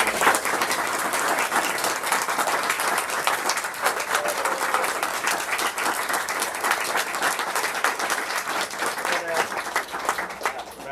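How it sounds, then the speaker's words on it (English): Steady applause from an audience at a bookstore author event, dense clapping sustained throughout without a break. "let's give another round of applause"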